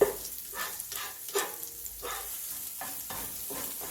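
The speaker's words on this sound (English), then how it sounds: "so we're scrambling up our eggs here." Eggs sizzle steadily in a hot pan while a utensil scrapes and stirs in repeated strokes, close by.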